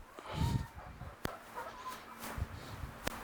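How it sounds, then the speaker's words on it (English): Soft, scattered clucks from three chickens nearby, with occasional sharp clicks and low background noise. "That's the 3 chickens."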